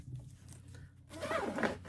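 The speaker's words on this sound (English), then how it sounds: "But this thing it's got a zipper" The zipper of a stitching bag is pulled open up close, a short rasping zip in the second half after a quieter moment of handling.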